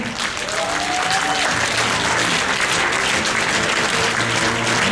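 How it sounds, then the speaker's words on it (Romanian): Audience applause after a presentation on bilateral hip arthritis treated with acupuncture, a steady dense clapping that fills the room, loud and continuous for the whole stretch. "Să vă aplaudăm!"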